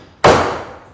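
A single sharp hammer blow strikes a metal punch to mark hole positions on a barn door build, a loud crisp impact followed by a ringing decay, heard alone.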